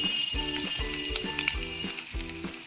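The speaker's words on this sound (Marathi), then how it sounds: "तेल आपलं व्यवस्थित गरम झालेलं आहे आणि या सगळ्या शिमला मिरच्या आपण त्याच्यात घालून घेऊया" Chopped capsicum sizzles loudly as it hits hot oil in a pan, a close, continuous frying hiss with repeated rhythmic scraping and stirring knocks throughout.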